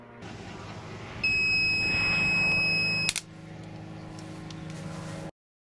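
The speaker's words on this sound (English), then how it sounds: "When the beep sounds, we remove the battery clamps" An aircraft battery load tester gives a steady high electronic beep for about two seconds over a constant low hum, then a click as the hum continues.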